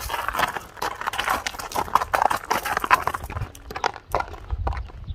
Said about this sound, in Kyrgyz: Тоо жүрөк ат деген жаныбар,